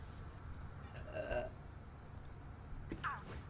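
A woman lets out a low, rumbling burp close to the microphone over a steady background hum, followed by a brief higher squeak.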